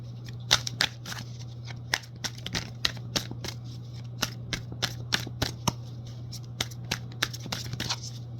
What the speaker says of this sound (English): Rustling with the cards over here.